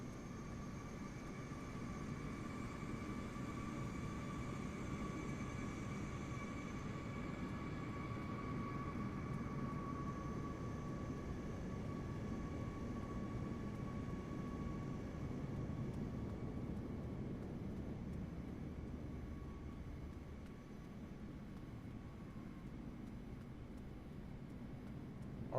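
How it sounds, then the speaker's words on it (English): Steady, moderately quiet drone of an Airbus A320 airliner's engines in Microsoft Flight Simulator 2024 on Xbox Series X, with a faint tonal whine sustained evenly throughout and no talking. "We have another Airbus A320."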